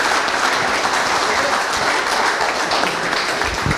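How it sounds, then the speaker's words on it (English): Audience applause at a fintech startup pitch night, a loud, dense and steady roar of many hands clapping that fills the whole stretch without a break. "So ladies and gentlemen, round of applause for Andrew from Viaduct."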